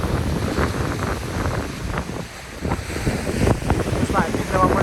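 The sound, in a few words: strong wind at the Black Sea coast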